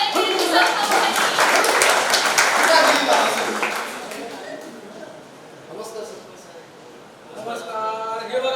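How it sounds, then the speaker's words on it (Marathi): A gathered audience at a school programme in Ratnagiri claps loudly for Kisan Bhau, a burst of applause for around four seconds that thins out, with voices talking over and after it. "जोरदार टाळ्या झाल्या पाहिजे किसन भाऊसाठी"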